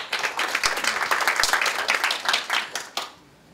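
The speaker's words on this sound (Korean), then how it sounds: "박수로 시작하겠습니다." At a community forum, an audience breaks into applause, with individual claps distinct within a lively, moderately loud round that fades out near the end.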